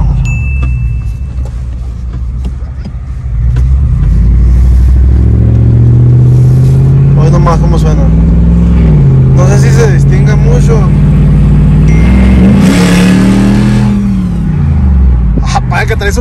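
A loud supercharged 2005-2010 Jeep Grand Cherokee engine with a high-flow air filter revs up and holds a throaty, rising roar with a whine on top, close by, while someone talks over it.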